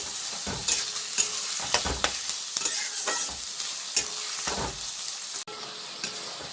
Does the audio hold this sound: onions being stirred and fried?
yes